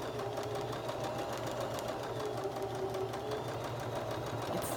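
A sewing machine stitches around a quilted scrap-fabric leaf, giving a close, continuous whirring drone that holds steady for the whole stretch with no talking.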